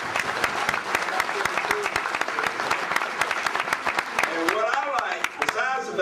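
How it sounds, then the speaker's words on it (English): An audience at an education conference keynote claps for the university basketball team, a sustained, fairly loud round of applause with sharp individual claps standing out. Voices cheer and call out over the clapping toward the end. "Give my basketball team a round of applause"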